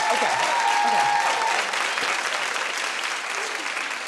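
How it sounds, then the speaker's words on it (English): A live audience claps continuously and fairly loudly, with a whistle cutting through early on and faint voices mixed underneath. "Clap if you care."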